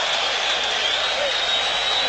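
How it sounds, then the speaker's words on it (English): A stadium crowd at a 1991 Buffalo at New England football game cheers as a steady, distant roar of voices and clapping, with no break across the whole stretch. "And the crowd is cheering."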